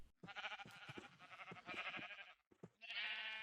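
Sheep on a Minecraft sheep farm bleat several times in quick succession, close and fairly loud, with a brief gap before a final drawn-out bleat.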